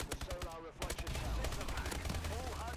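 Rapid automatic gunfire cracks in bursts during Call of Duty: Advanced Warfare multiplayer as the player is hit from behind, mixed with game effects and someone talking over the action.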